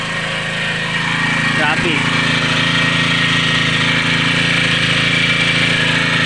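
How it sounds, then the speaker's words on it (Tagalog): A new 4-stroke grass cutter engine runs steadily during break-in, a loud continuous drone with an unadjusted idle, close by; someone speaks briefly over it. "nag-break-in tayo ng ating 4-stroke na grass cutter"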